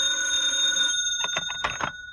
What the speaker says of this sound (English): had just about decided to have some food sent up to the room when the phone rang